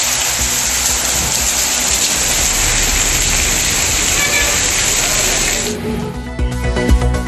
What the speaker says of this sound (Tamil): தூத்துக்குடி மாவட்டம் கோவில்பட்டியில் வெப்பத்தை தணித்த கனமழை